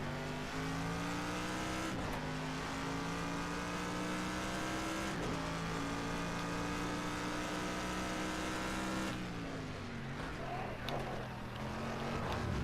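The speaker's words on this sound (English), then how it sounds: "I'm trying to crash the car" A racing car's engine in a video game drones steadily and fairly faint, its pitch climbing and dropping with gear changes and revs throughout, without talk.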